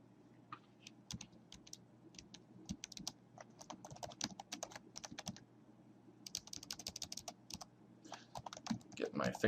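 Rapid clicking of a computer keyboard as someone types commands into a terminal, irregular bursts of keystrokes with brief pauses, close and clear over a faint steady hum.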